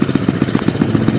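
A motorcycle fitted with a grass-carrying basket idles nearby with a steady, rapid mid-pitched engine pulse and light clatter, loud and close.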